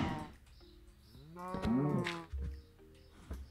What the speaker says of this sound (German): Jetzt ist die Kuh wieder sauer.